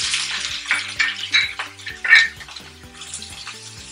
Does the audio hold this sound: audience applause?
no